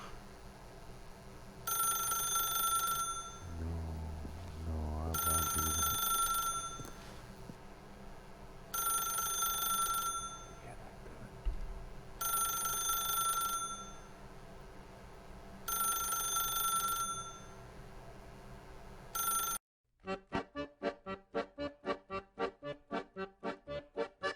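A telephone in The Stanley Parable rings in five long, evenly spaced bursts over a soft ambient bed. The ringing then gives way to a quicker, pulsing electronic tone.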